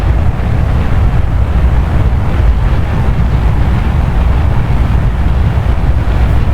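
Solid rocket boosters burn in Kerbal Space Program, a dense, loud, continuous roar with heavy low rumble that holds steady throughout without pauses or voices.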